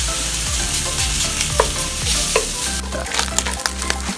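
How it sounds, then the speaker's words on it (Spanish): Longaniza sausage frying in a pan with onion and chopped green chili, a steady loud sizzle with scraping stirs and small pops throughout. "ya que dore poquito la longaniza, voy a agregar la cebollita, chilito picado verde"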